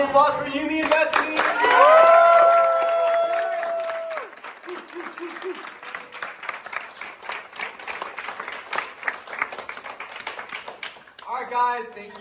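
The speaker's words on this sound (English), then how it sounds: "Round of applause for Yumi and Bethany!" Lively applause and cheering from a crowd at a student baking competition, steady clapping under whoops and a sung-out voice at first, continuing for several seconds before a speaker resumes talking near the end.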